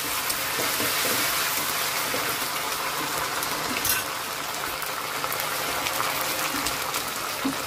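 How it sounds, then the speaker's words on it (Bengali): Vegetables for shukto are stirred in a hot pan, a loud, steady hiss and sizzle filling the whole stretch with faint scraping movements underneath and no voices. "এরকম নেড়ে নিলাম একটু ভালো করে।"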